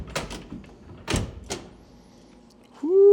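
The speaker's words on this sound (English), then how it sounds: "Very smooth action on the door." Several solid thuds and clunks of a 1956 Chevrolet Bel Air Convertible door being worked open and shut, close by, followed by a voice starting to speak at the end.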